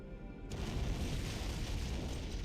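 An antimatter charge explodes aboard a ship in Halo: Combat Evolved, a sudden loud boom that hits after a brief quiet moment and then rolls on as a sustained, rumbling roar.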